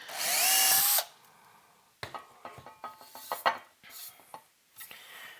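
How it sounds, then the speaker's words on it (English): Power drill boring holes in a metal tube preamp chassis: one loud sustained whine for about a second, then a quieter stretch of scattered clanks and knocks as the work is handled. "we'll probably edit forward till I have all 4 of these drilled"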